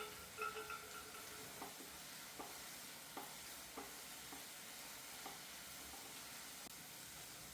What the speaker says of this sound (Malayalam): അപ്പോഴേക്കും നമ്മൾ സവാളയൊക്കെ ഒന്ന് വഴന്ന് വന്നിട്ടുണ്ട്.